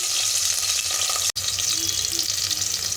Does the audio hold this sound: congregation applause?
no